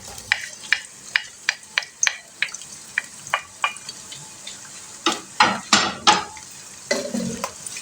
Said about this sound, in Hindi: तेल गर्म हो गया है तो इसमें हम डाल देते हैं प्याज